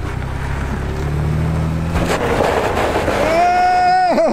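A Ford Bronco's engine roars and climbs in pitch while rock crawling on a trail, loud and close, with rising whining tones toward the end.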